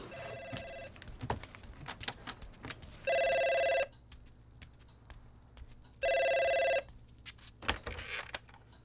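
An indoor telephone rings twice in long electronic bursts. Between the rings come scattered clicks, thumps and room noise.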